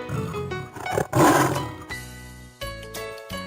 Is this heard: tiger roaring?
yes